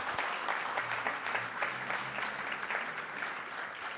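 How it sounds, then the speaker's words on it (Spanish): A church congregation applauds during a Christian worship service, sustained steady clapping from a crowd filling the room at an even level throughout. "den un aplauso al Señor."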